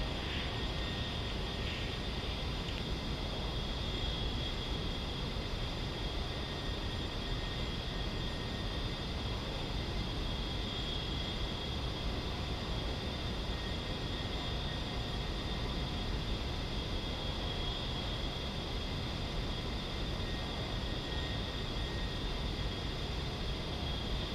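An A-10C holds position behind a KC-135 tanker for mid-air refueling in the DCS flight simulator, its engines producing a steady, unbroken roar that fills the whole stretch with no talking.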